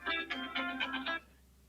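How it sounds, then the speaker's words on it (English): A mobile phone ringtone for an incoming call plays a quick melodic pattern of bright electronic tones for about a second, fairly close, then stops, leaving a quiet room. "Did you just get a phone call?"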